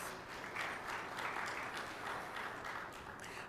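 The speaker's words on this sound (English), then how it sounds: "To Angostura and the other corporate partners in the room, thank you. Please give yourselves a round of applause." Applause from an audience of corporate partners at a Ministry of Education stakeholder meeting with a business and energy chamber, a steady, fairly quiet wash of clapping that fills the whole short stretch.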